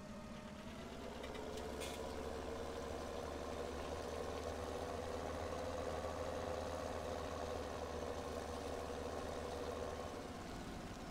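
A tractor engine idles steadily in Farming Simulator 17, a low, even mechanical drone that holds at a constant level throughout with no talk over it.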